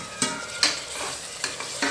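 Tomatoes drop into a pan of frying onions and chilli, giving a steady sizzle with several sharp stirring scrapes spaced through it, close and moderately loud with no talking.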